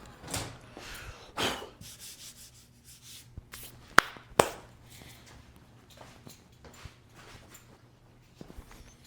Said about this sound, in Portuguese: Então vamos lixar isso aqui pra gente poder terminar essa peça.